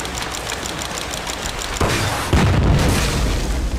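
Tanks being destroyed in the 2001 video game Tom Clancy's Ghost Recon, heard as two deep booming explosions that land one after another over a steady rhythmic background of game noise.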